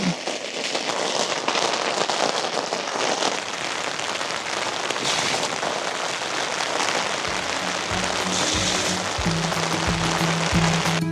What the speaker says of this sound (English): I started to feel some raindrops, and luckily I took shelter before it started pouring.